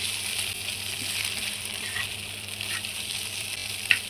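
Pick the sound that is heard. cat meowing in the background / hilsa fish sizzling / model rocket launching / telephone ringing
hilsa fish sizzling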